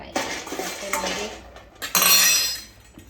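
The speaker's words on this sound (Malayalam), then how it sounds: "നട്ട്സ് എല്ലാം കൂടെ ഒരുമിച്ചിട്ടാണ് ഫ്രൈ ചെയ്യുന്നത്." A mix of peanuts, almonds, cashews, makhana, dates and pumpkin seeds tossed together in a hot pan, with busy rattling, clinking and scraping of utensil against metal that grows louder toward the end.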